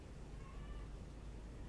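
A cat meows faintly outdoors, one thin drawn-out call heard through a steady hiss of rain-like background noise.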